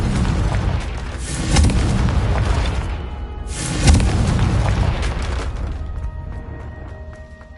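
A Confringo spell in Hogwarts Legacy detonates twice, each time a loud, deep explosive boom with a rumbling tail, followed by fading crackle and thin ringing tones.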